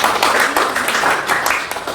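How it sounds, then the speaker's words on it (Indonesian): A school class claps hands together in a dense, fast patter of overlapping claps, steady and fairly close throughout. "Coba tepuk tangan aja dong."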